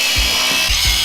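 A power tool cuts through a metal part that blocks a vehicle's dipstick, a steady loud close whine with a few low thumps as the blade bites.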